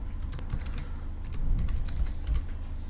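Steady, irregular clicking of keys on a computer keyboard as a folder or file name is typed into a command line, close and moderately quiet, with no talking.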